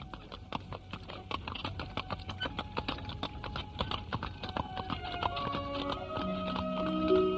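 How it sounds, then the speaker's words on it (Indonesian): Horse hooves clip-clop steadily along a village road as a horse-drawn carriage travels, a regular patter of hoof taps throughout, with a sustained music tone rising in the final seconds. "Kereta kuda yang ditumpangi Arya Dwi Pangga dan Narirati berjalan menyusuri jalan desa yang amat indah pemandangannya"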